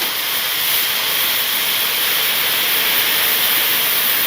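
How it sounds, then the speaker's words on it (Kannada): One glass of milk heats in a pot on a stove, giving a loud, steady, even hiss that runs unbroken throughout with no voices. "ಸ್ಟವ್ನ ಆನ್ ಮಾಡಿಕೊಂಡು ಹಾಲನ್ನ ಕುದಿಸ್ಕೊಳ್ಳೋಣ."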